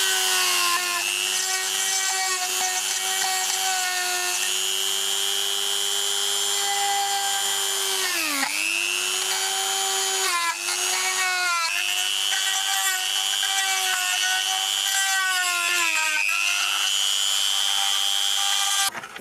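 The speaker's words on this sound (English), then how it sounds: "Now we see now with the Dremel, I've got rid of all that waste in between the chain links." A Dremel rotary tool carves waste wood from between the chain links of a wooden love spoon, giving a loud, continuous high whine whose pitch dips briefly as it bites into the wood.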